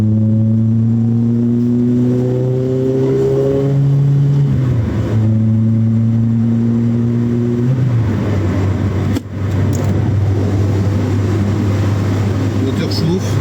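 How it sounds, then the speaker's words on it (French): A Peugeot 106 XSi engine idles steadily while warming up, a loud, close, even hum that shifts pitch slightly early on before settling into a constant drone. "Le moteur chauffe."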